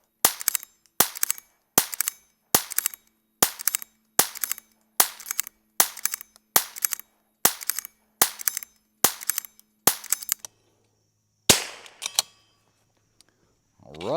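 Rim-X rifle firing rounds in a reliability test, a steady series of about fourteen sharp, loud cracks evenly spaced roughly every two-thirds of a second, then a pause and a couple of metallic clacks.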